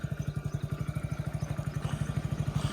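A motorbike engine runs close by in a rural setting, giving a steady, rapid thumping pulse that grows slightly louder toward the end.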